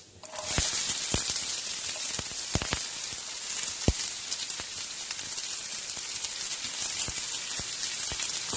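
Chopped onions dropped into hot oil with chana dal for kara paniyaram, a sudden steady sizzle that keeps crackling with scattered sharp pops, close and moderately loud.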